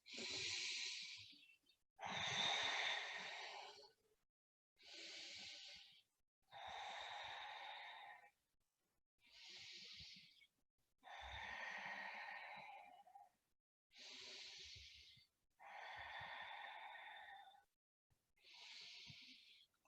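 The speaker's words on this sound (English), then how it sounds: "5 deep breaths." Slow deep breaths during a yoga forward fold, about five long inhale-exhale cycles, each a breathy rush with short pauses between, close and fairly quiet with no talking.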